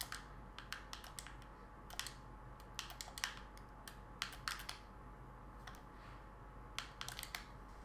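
Quiet, close-up typing on a computer keyboard during an online match: irregular clusters of sharp key clicks and taps, some in quick bursts, over a low steady hum, with no talking.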